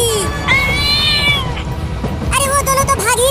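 Two cartoon cats sitting on railway tracks give drawn-out, close, loud meows, one long call followed by a short pause and then another rising meow over background noise.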